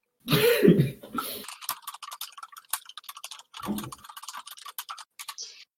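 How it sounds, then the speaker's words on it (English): Rapid clicky keystrokes on a keyboard tap out in quick bursts, starting after a brief loud cough-like noise and pausing midway around a second burst of broadband noise; close and fairly crisp, with no talking. "I love the sound of the typing."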